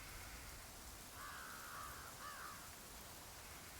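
Birds call in the open-world shooter Ghost Recon Wildlands: two or three faint chirping cries, low in the mix, rise briefly over a steady wash of ambient outdoor noise.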